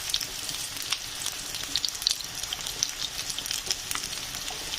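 New potatoes fry in a pan with a busy, close sizzle full of crackling spits and pops, steady and continuous with no voices over it.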